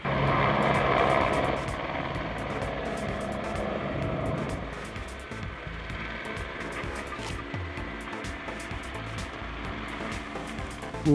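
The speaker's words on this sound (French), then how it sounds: "Un hélicoptère est là pour continuer ce travail." A helicopter working at a chairlift construction site for Auron's Haute Plane lift, its rotor and engine roaring loud at first, then easing into a steadier, lower drone with chopping beats.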